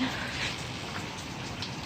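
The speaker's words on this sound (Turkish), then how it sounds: "Beklenmeyen bir yağmurla karşı karşıya kaldık yani." Unexpected rain falls as a steady, soft hiss of drops across the whole moment, fairly quiet and even, with no voices heard.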